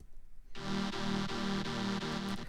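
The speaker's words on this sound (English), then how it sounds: "it's just a normal saw pad with a little bit of unison to add roughness to it" A buzzy sawtooth synth pad with slightly rough detuned layers sustains a chord, pulsing faintly as it plays on alone.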